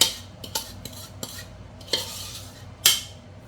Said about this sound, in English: Now we're going to mix this together.